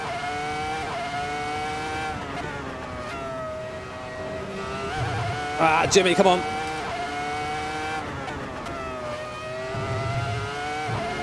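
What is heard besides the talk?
racing car engine and tires on a fast lap at Monza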